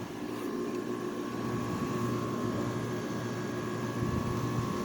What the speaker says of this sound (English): So yep, it's running. Nice sounding compressor.